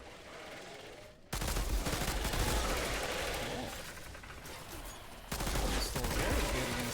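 Pistol gunfire in the sci-fi shooter Outriders: rapid, loud cracking shots in dense bursts that start abruptly after a quieter moment, ease off briefly, then surge again, with some talk mixed in.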